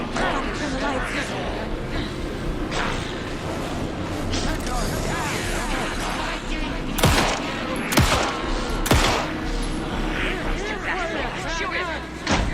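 Gunshots ring out in the video game Alan Wake, a few sharp cracks standing out near the end amid a loud, busy game soundscape with voices shouting throughout.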